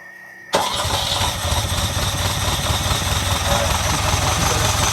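A 1979 Ferrari 308 engine catches on choke after a quiet moment, then holds a loud, steady rough idle close by for several seconds with faint voices beneath it.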